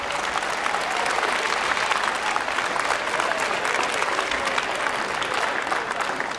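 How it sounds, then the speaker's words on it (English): Loud, dense applause from an audience at a talk at Memphis Catholic, steady and sustained across the whole stretch, with no voices standing out. "Go ahead, you clap that one up."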